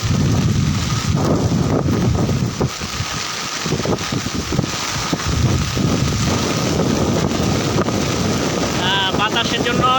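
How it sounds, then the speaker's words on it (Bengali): Strong wind buffets the microphone in a heavy rainstorm during flooding on Hatiya island, with a steady roar of rain underneath and gusts surging and easing across the stretch. "বৃষ্টির সাথে সাথে বাতাসের গতিও বেড়ে গেছে। তার সাথে বৃষ্টির গতিটা অনেক বেড়ে গেছে।"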